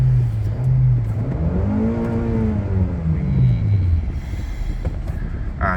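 A Honda Accord 2.0 engine, tuned for E85, revs up and down with a loud, rumbling exhaust roar, pitch rising then falling, close by with no talking.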